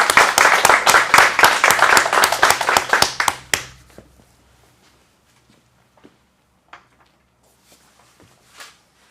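Audience at an acting studio's adult script showcase in Phoenix applauds a performer, a few seconds of close, brisk hand clapping that stops abruptly, followed by quiet with scattered faint taps and movement.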